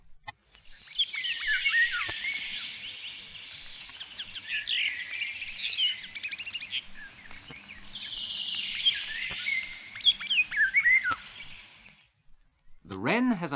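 A starling sings, mimicking the fluting, whistled song of a European golden oriole, with continuous bright warbled phrases and chirps rising and falling over many seconds at moderate loudness.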